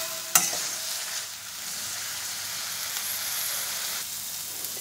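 Spices with Kashmiri chili powder stir-fry in a pan for parwal korma, a steady close sizzle broken at the start by a sharp scrape of the spoon.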